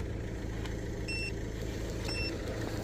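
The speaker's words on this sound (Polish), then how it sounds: "Teraz pikanie" Two short electronic beeps about a second apart from a jump starter, clear but modest, over a low steady background hum.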